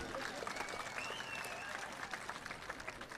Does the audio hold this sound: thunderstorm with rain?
no